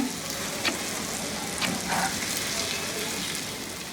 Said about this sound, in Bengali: সেই জন্য আমি এটা কিন্তু হাই হিটে ভাজতেছি